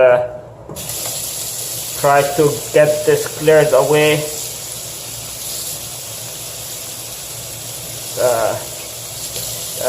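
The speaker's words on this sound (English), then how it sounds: "Let's run some water on this" Water runs from a bathroom tap over a dirty toothbrush in a steady broadband hiss, with a person talking over it partway through.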